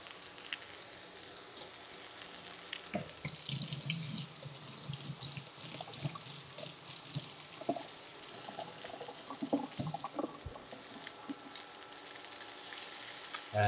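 Salmon sears in a hot pan with a steady broad sizzle and crackle, scattered clinks and stirring clatter rising over it, close and moderately loud throughout with no talk.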